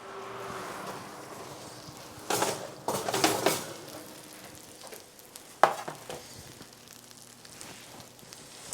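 Shrimp hiss and sizzle softly in a hot pan, with bursts of scraping and stirring clatter rising over the steady frying.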